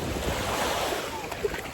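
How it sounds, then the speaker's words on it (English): Ocean surf at a beach washes in as a steady broadband rush with wind buffeting the microphone, loud and close throughout, with no talking. "I'm gonna show you guys the ocean."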